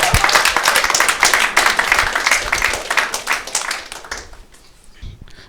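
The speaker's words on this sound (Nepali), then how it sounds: "जोक भन्दाखेरि एकचोटि नेपाली पुलिसलाई पनि ताली बजाइदिउँ न।" A stand-up comedy audience claps for the Nepali police: dense, loud applause fills most of the stretch, then thins out and fades near the end.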